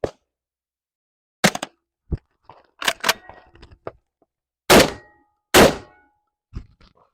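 Byrna less-lethal 12 gauge rounds from a shotgun, a series of sharp, loud, close reports and thunks, several spaced impacts with short decays and quiet gaps between them.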